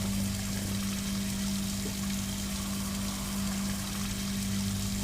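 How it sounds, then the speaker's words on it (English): Water pours steadily into a cooking pot in a home kitchen, a continuous close rushing stream with a low hum underneath and no talking. "We're gonna add some water"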